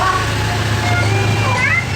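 A bobtail cat meowing, several short, wavering calls up close over a steady low background hum, with some talking around them.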